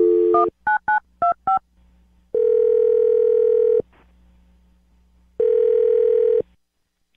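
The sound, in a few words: telephone dialing a number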